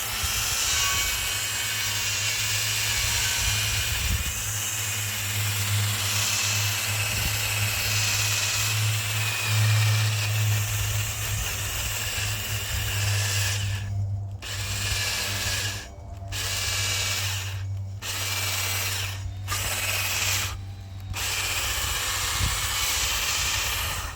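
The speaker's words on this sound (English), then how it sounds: "Let's get a wire wheel on this thing a little bit." A wire wheel on a power tool scrubs the rear brakes of a 1956 Ford F500 truck, making a sustained harsh, hissing whir with a motor hum, then cutting off briefly several times near the end.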